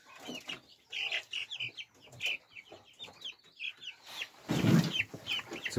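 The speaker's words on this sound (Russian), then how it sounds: "хочу показать своих последних выводок цыплят" Young Brahma chicks about two and a half weeks old cheep in a close, busy chorus of bright repeated peeps, with a brief rustling scuffle near the end.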